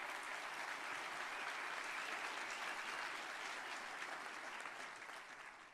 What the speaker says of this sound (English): A hearty round of applause in C.C.'s memory.